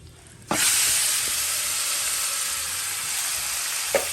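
Chicken feet hit hot curry oil with a sudden loud sizzle that then holds as a steady, bright frying hiss close by, with a faint clatter near the end.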